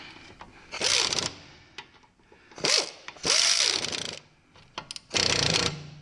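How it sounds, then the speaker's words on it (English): An impacting air ratchet drives brake caliper bolts on a Toyota Corolla, firing in several short, loud bursts of rapid hammering whir separated by brief pauses, close by. "I like to use this impacting air ratchet because I know I never go over the minimum torque"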